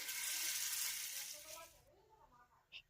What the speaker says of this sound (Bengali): একই তেলে বাকি সব বড়াগুলোকেও ভেজে নেবো